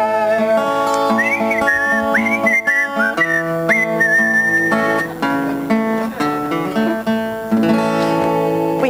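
Someone whistles a bright, wavering melody over a church song during a Sunday service, the warbling line sitting on top of sustained instruments and voices and carrying loud and clear throughout.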